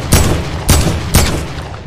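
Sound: gunshot in the video game Fortnite

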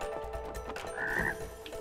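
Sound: frog croak from a video game, It Takes Two

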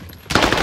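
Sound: gunfire in the video game Call of Duty Warzone, Rebirth Island

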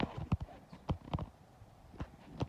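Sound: horse hooves clip-clopping

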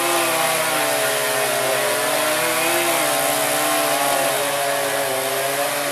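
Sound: chainsaw cutting a tree

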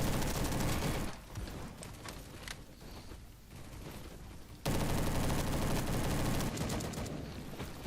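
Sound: gunfire from a G3 rifle in the video game Roblox Bad Business

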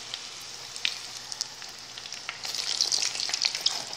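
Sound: breaded chicken fillet frying in a pan

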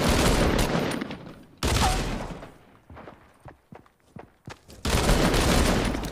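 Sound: gunshots in a video game

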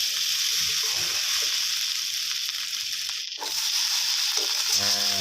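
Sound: stir-frying fried rice with Chinese sausage in a pan

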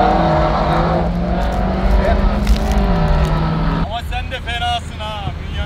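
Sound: damaged Mercedes-Benz C63 AMG engine running loudly

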